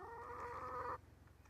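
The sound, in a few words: chicken hen clucking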